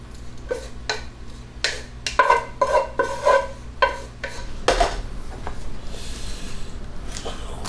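Bacon, peppers, garlic and onions being stirred into a pot of loaded beans, with a run of scraping, clanking utensil strokes against the pot and a soft low hum underneath.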